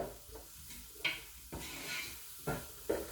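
Onions, ginger and scotch bonnet pepper sauté in a pan, giving a quiet sizzle under several distinct utensil stirs and scrapes that land about every half second to second.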